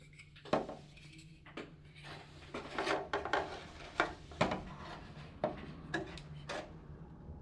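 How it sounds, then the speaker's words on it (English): A hobby knife scoring and cutting a clear polycarbonate body shell for an ARRMA Notorious 6S RC car, giving a series of close, sharp scraping and clicking cuts in an irregular rhythm, with no talking. "then we're gonna cut this with my knife"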